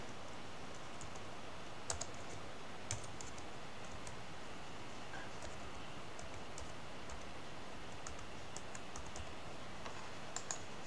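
Quiet, sparse keystrokes on a computer keyboard while drafting in AutoCAD, scattered light clicks over a steady low hiss with no speech.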